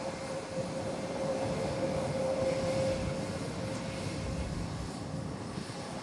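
A JetBlue airliner holding short at SJU airport in San Juan, its engines giving a steady, moderately distant roar that holds evenly through the whole stretch with no voices.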